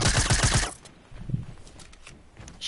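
Rapid burst of automatic gunfire in a video game shooter, loud and close for the first moment, then a quieter single shot and faint ambient game sound.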